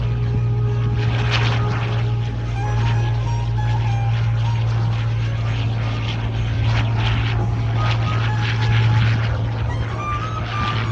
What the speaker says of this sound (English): The Hawker Hurricane, one of the stars of the Battle of Britain.